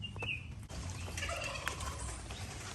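A tom turkey gobbles on a farm, a rapid warbling call that is faint and brief against steady outdoor background noise.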